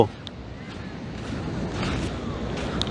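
Steady wash of surf on a sea beach at Rajhansa Island, Chilika, with wind buffeting the microphone, a continuous rolling roar that swells slightly toward the end.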